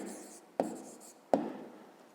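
Pen writing by hand on paper while noting an answer in a fifth-grade maths exercise, a quiet scratchy stroke sound with two sharper taps, close up, lightly overlapping speech.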